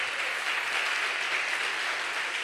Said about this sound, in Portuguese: Você pode bater palmas para o Senhor Jesus?